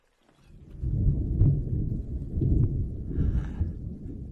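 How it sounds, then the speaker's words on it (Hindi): Deep thunder from a storm overhead rumbles and rolls for several seconds, swelling in low heavy waves before fading slightly, with no voices. "ऐसा लग रहा है जैसे तूफान हमारे सिर के ऊपर है।"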